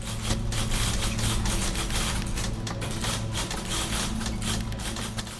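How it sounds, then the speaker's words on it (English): Typewriters clatter in the video game The Beginner's Guide, a busy, continuous patter of rapid mechanical key strikes layered over a low hum, steady and fairly close. "Oh, the typewriters."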